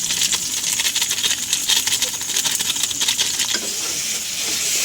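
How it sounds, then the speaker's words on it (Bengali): A spice paste of cumin powder, turmeric, ginger-garlic paste and red chili sizzles in hot oil while being stirred, a bright, steady frying hiss with scraping and light tapping of a spoon in the pan. "ভালো করে মশলাটা কষিয়ে নেব"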